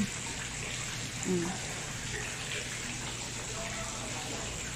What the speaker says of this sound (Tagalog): ito yung little fountain nila. Hindi naman masyadong maano yung tubig